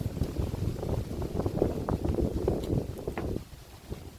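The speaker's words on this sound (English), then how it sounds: "the wind is tough" Steady, blustery outdoor wind buffeting the microphone with a low rumbling roar throughout, easing slightly near the end.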